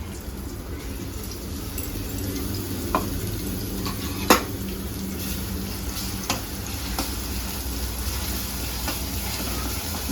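Green chillies and garlic frying in hot oil, a steady close sizzle with occasional sharp clinks of a spoon stirring the pan, no talking.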